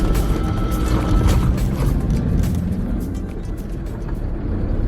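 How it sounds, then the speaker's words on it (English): A big tractor rumbles past on a snowy country road, a loud, low engine drone with a broad roar that swells and then slowly fades as it moves away. "Oh, big tractor."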